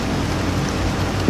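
Steady rain falls at a logging site in a North Carolina swamp during a wet spell, a constant broadband hiss with a faint patter close by.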